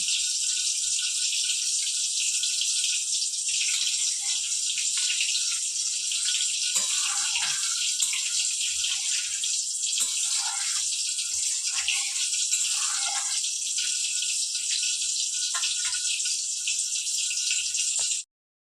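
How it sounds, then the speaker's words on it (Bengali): Panch phoron spices dropped into hot oil for cooking pui shak (Malabar spinach), giving a steady, loud hissing sizzle that runs unbroken for the whole stretch, with a few faint clinks and stirs beneath. "তেলটা গরম হয়ে গেছে এবার এই যে পাঁচফোড়নটা দিয়ে দিলাম"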